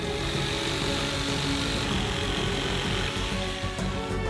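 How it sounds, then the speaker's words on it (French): A jigsaw cuts through a large wooden board, a continuous dense buzzing rasp held steady for several seconds, close and alone. "Tracez le diamètre extérieur du tuyau et le découpez avec une scie sauteuse."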